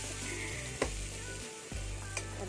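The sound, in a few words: onion and garlic frying in a pan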